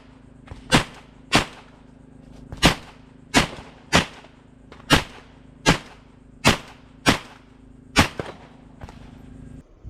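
Sharp .22 pistol shots from a Ruger Mark IV and a Taurus TX22 crack out about eleven times at irregular intervals, each one loud and distinct over faint background noise. There is no talking.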